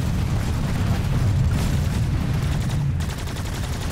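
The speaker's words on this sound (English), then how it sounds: "Quit shooting at the tower" Sustained gunfire and explosive booms from the Planetside 2 shooter game, a continuous dense barrage of rapid shots with a heavy low rumble filling the whole stretch, close and loud with no speech.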